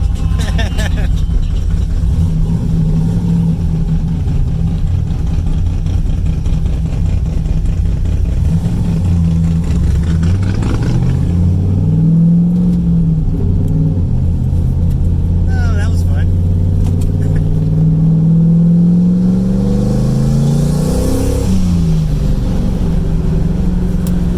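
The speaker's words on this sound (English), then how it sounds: "so I stepped on it a couple times there, and it seems alright" Turbocharged Chevrolet IROC with a straight-pipe exhaust, its engine loud and close, idling roughly then revved up a couple of times in rising and falling sweeps, with people talking over it.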